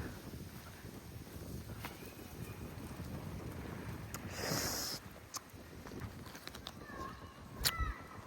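Steady wind blows and buffets the microphone outdoors beside roadside apple trees on a cool day, with a faint bird chirp near the end.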